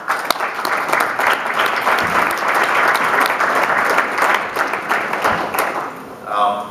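A conference audience at CPAC 2013 gives the panelists of a discussion on fatherless America a warm round of applause, with loud, sustained crowd clapping for about six seconds that tapers off, a voice briefly audible near the end.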